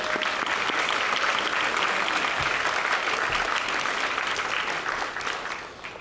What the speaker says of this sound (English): So we should applaud you as well.